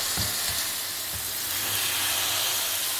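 Marinated chicken leg pieces sizzle loudly in two to three tablespoons of hot oil on a preheated grill pan. The steady frying hiss is broken by a few soft thumps near the start as the pieces are set down.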